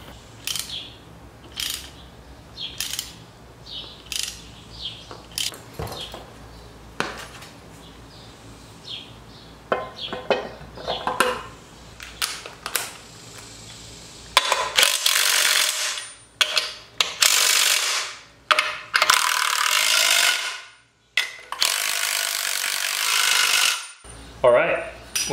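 Bolts are run onto extended studs during a differential install on a BMW E30 with a turbo S52 swap, heard as bursts of ratcheting and mechanical clicking, then louder rapid tool whirring in the second half.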